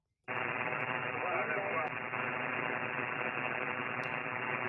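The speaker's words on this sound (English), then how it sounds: "Hear that static coming from the west?" A ham radio receiver hisses with band-limited static, a steady rushing noise that starts abruptly and continues, with faint voice-like tones mixed into the static.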